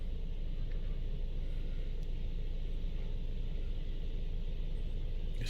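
A touch-free laser car wash machine in the United States moves around a parked car with a steady, dense rumble and spray-like hiss. The sound stays constant throughout at close range, with no talking.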